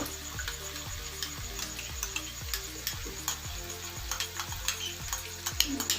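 Masala sizzles loudly in a pan as tomato ketchup goes in, with steady frying hiss under repeated spoon scrapes and clinks against the pan.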